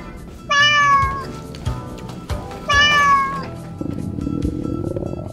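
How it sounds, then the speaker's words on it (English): A cat meows twice, loud and close, each call a drawn-out whining cry separated by a pause, followed by a low rumbling background noise. "Ooh, a kitty!"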